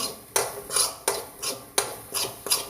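A spoon scrapes rhythmically against a pan, about seven regular strokes stirring grated coconut until its moisture dries off, close and fairly quiet.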